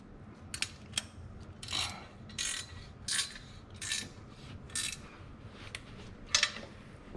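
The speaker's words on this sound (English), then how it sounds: "pull up on the front of the manifold and then tighten your bolt back down" A ratchet tightening a turbo manifold bolt on a Honda S2000: close, crisp clicking comes in quick separate bursts, about ten strokes over seven seconds, over a low background hum.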